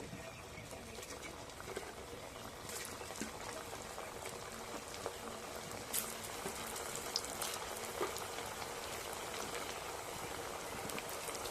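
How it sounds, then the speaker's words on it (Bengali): Bottle gourd (lau) snacks frying in hot oil, giving a steady, even sizzle and crackle that stays fairly quiet throughout, with occasional louder pops and no talking. "তেলটা আমি খুব ভালো করে গরম করে নিয়েছি এবার একে একে নাস্তাগুলো দিয়ে দেবো"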